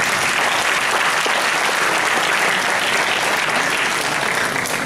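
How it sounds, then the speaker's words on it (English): A conference audience at the APCYS 2015 opening gives loud, sustained applause to welcome new participant countries the Philippines and India, dense clapping from a large crowd that stays constant throughout. "Let's give them a round of applause."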